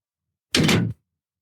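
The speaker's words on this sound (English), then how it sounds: "The door closed behind me as I moved over to the railing." A door swings shut with a single short, solid thud, loud and close, followed by silence.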